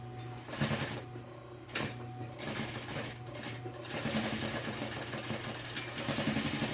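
A sewing machine stitches a multipurpose fabric pouch in a sewing workshop, giving a steady close mechanical whir and rapid needle chatter that runs the whole time with small shifts in pace.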